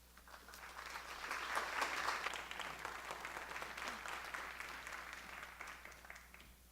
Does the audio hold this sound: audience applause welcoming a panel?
yes